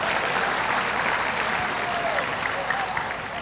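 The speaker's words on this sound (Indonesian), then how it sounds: "Berikan tepuk tangan buat mama saya dong." A church congregation bursts into applause for an elderly woman in the audience, producing a loud, even wash of clapping that holds steady throughout.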